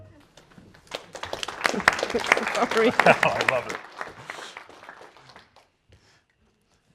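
Audience applause at a Polish centennial evening of reflection and celebration as a speaker is introduced, a dense spell of clapping that swells and then fades away over several seconds, with a voice speaking briefly over it.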